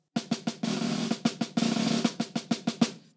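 Rapid drum strokes in quick groups, with two stretches of sustained rolling, moderately loud and alone.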